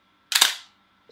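Camera shutter set to 1/30 second fires once, a crisp mechanical snap-and-clatter heard close and alone, fading out in a fraction of a second, with a faint tick near the end.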